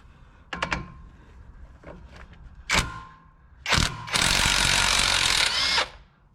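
A ratchet with an 18mm socket works a steering dampener bolt on a 2011-2016 Ford F250, giving a few sharp clicks followed by a loud, sustained burst of mechanical whirring close by.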